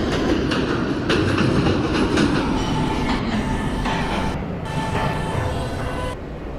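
An E subway train runs steadily along the rails, a loud, continuous rumble with rhythmic clatter and faint wheel squeal throughout, no voices.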